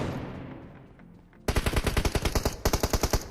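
Automatic gunfire in the mobile shooter BGMI: after a quiet stretch, a sudden loud burst of rapid, evenly spaced shots, a brief pause, then another fast volley, close and dominant.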